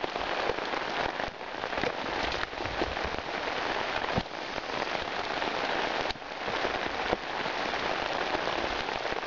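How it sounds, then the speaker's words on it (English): Steady rain pours onto an outdoor campsite with wet cotton and a smouldering fire, a dense continuous hiss with brief louder bursts of drops, close and without speech. "Rain changed."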